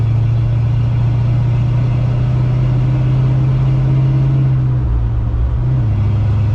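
A 1970 Dodge D100 pickup truck's exhaust rumbles loud and close, holding a steady low drone while cruising before the pitch drops as it shifts gears near the end.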